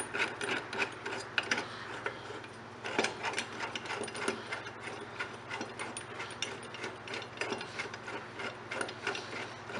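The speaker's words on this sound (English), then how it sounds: "I've got a 2-jawed puller, and I'll go in here like this and like this, and I'll tighten it down." Two-jaw puller being tightened onto a rusted blade clutch holder from a Honda HRC216 mower, producing a run of quick ratcheting clicks and metallic scraping in uneven bursts, close and fairly quiet.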